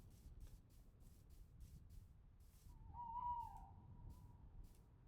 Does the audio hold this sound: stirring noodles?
no